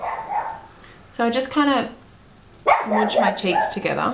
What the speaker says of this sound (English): That's my dog outside.